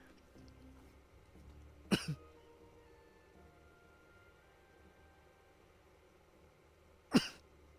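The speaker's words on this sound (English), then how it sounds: "sorry, now I'm coughing." Someone coughs twice, short and close, early on, then once more about five seconds later over a quiet background hum.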